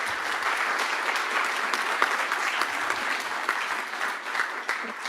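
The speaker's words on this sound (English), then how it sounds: "I would give a big round of applause and thank you to our panelists" An audience at a U.S.-India clean energy conference claps for its panelists, a steady moderate round of applause lasting several seconds in a hall before tapering slightly.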